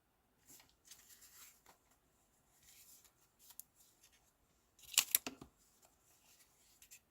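Scissors snipping through a stamped paper card during card-making, a few short crisp cuts with a louder cluster of snips near the end, quiet and close with faint handling rustles between.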